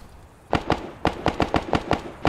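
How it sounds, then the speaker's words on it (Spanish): Gunfire in the military video game ARMA 3: about nine sharp shots in irregular quick bursts, loud and fairly close, with no talking. "Escuchan tiros, ¿eh?"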